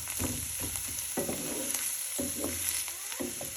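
Garlic and onions sizzling in a cast iron skillet for an egg omelette, a dense continuous close frying hiss broken by repeated spatula scrapes and stirring knocks.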